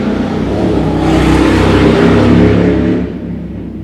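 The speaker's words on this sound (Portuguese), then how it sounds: "infeliz aqui de um vizinho que tá passando de moto" A neighbour's motorcycle passing close by on the street, a loud engine roar that swells and holds, then fades away near the end.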